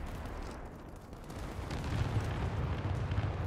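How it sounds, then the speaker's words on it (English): Bombing-run explosions in the video game World War 3 roll in as a deep, continuous rumble that swells louder in the second half, with heavy booms layered together and no talk. "That was a nice bombing run."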